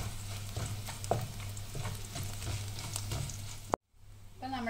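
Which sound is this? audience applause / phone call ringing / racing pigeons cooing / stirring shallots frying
stirring shallots frying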